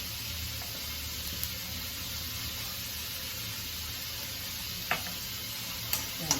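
Mustard seeds, cumin and curry leaves sizzle and crackle steadily in a hot pan, a continuous frying hiss with a few faint clicks and stirs.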